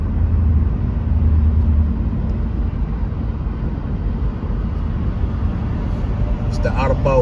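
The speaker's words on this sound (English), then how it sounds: "we got a little traffic volume coming up" Steady low rumble of a car driving in traffic on the Outer Belt South Freeway near Cleveland, a continuous broadband road and engine roar with no breaks.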